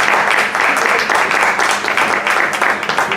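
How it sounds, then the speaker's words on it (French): An audience applauds loudly at a Miss Mauritius committee press conference, with dense, continuous clapping throughout a few seconds. "je vous demande encore une fois de nous joindre à nous et de l'applaudir bien fort"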